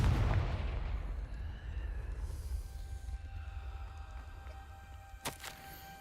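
Confringo explosive spell cast in a wizard video game, a heavy booming blast with a long rumbling tail, followed by a sharp crackling burst near the end.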